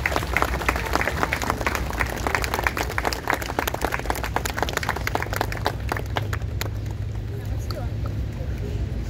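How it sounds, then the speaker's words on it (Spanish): Outdoor applause from a gathered crowd at a white dove release in Laurel Land, Fort Worth, with scattered clapping that thins toward the end. "Un fuerte aplauso para Daisy."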